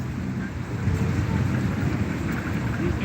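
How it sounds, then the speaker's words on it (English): Steady rain falls outdoors as a dense, even hiss with a low rumbling undertone, continuous and fairly loud throughout, with no distinct voices standing out. "Little rain ain't stopping nothing."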